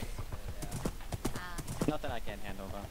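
Horse hooves clip-clop in a steady rhythm during a ride, close and moderately loud, with people talking over them throughout.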